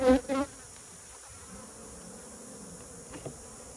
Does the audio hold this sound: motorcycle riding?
no